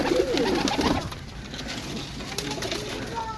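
Pigeons coo in soft, repeated throaty calls close by within a flock of about a hundred birds being sold, the cooing strongest at the start over a steady background hum.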